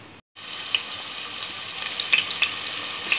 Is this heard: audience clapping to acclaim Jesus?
no